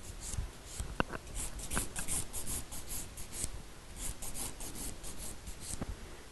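A nail file rasps across a sculptured acrylic nail in long, repeated strokes, a soft close scratching with an irregular rhythm and one sharper tap, no voice heard.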